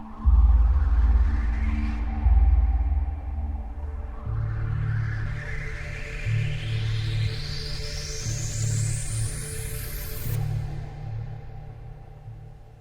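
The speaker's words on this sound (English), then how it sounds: "we got a drone here." A deep drone from the Saturn (JP Legacy) software synthesizer by UVI rumbles steadily, with a rising whistling sweep climbing slowly over it, loud and continuous.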